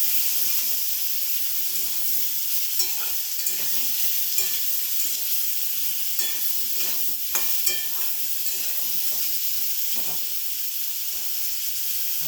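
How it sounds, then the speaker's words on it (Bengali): Potatoes and pointed gourd frying in a pan with salt and turmeric, a steady loud sizzle with intermittent scraping stirs, close and continuous without talk. "এবার ভালো করে ভেজে নেব।"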